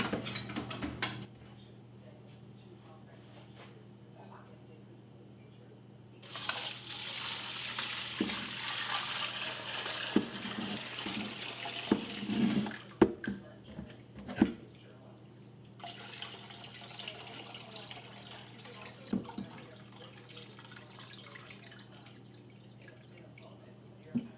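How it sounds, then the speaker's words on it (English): Homemade turkey broth being strained, heard as quiet pouring and trickling liquid with scattered drips and splashes against a low steady kitchen hum. "So there's the broth. It's looking really good, but it's a nice deep brown, so let's get it strained out."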